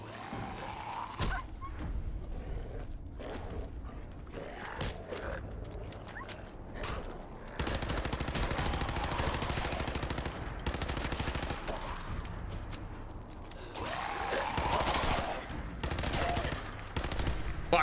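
Bursts of automatic pipe rifle fire in Fallout 4, long rapid rattling volleys that are loud and close, broken by short pauses, with scattered single shots and some mechanical clatter in between.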